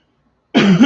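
A single short, close, loud cough breaks the silence in a crafting session, a rough burst lasting under half a second.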